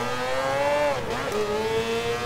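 A high-revving Mazda 787B race car engine in Gran Turismo Sport whines steadily, dipping briefly in pitch mid-clip before climbing again; loud and close, no talking.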